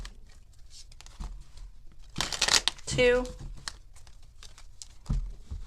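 Tarot cards shuffled by hand during a love reading, a brief burst of riffling and flapping card noise between quiet stretches of speech.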